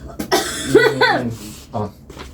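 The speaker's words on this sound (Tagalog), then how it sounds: "may ubo ako. Ang lakas ng plema ko ngayon." One person coughs several times in short, close bursts, with a phlegmy, chesty sound and brief gaps between the coughs.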